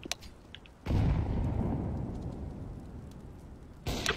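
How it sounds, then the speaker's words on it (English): A flashbang grenade goes off in a video game: a sudden loud blast about a second in, then a long roaring, hissing tail that slowly fades, and a second sharp burst starts right at the end. "Throwing flashbang."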